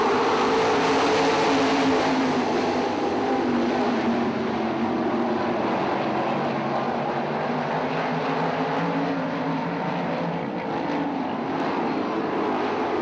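Sprint cars in the 305 class at Attica Raceway Park, Ohio, roar steadily as a pack, a loud, continuous engine drone with shifting pitch that fills the whole stretch without any voices.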